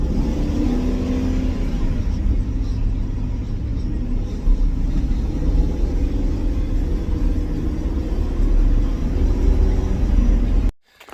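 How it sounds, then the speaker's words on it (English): Engine of a large piece of equipment idling and running steadily, a continuous low rumble and whir held at even loudness for several seconds before cutting off abruptly at the end. "I don't know what motor's in this thing, but it runs pretty good."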